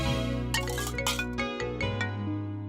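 An incoming call on a phone sets off a melodic electronic ringtone that plays continuously and clearly for a few seconds, with no one talking over it.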